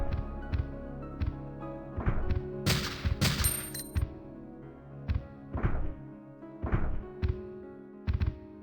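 Gunfire from the Resident Evil 2.5 Dark Legacy mod lands as a run of sharp, separate shots, one or two at a time at uneven gaps, with a brief denser burst near the middle and no talking.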